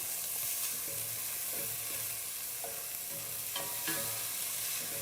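Chopped peppers being stirred into a soup pot of leek and corn soup, a steady sizzle with repeated scraping stirs of a spoon throughout, close and continuous.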